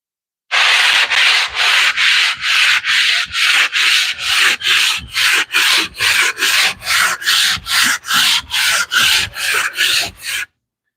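A wooden workbench is sanded by hand with 80-grit sandpaper in about twenty loud, close, rhythmic rasping back-and-forth strokes that come steadily one after another with no talk.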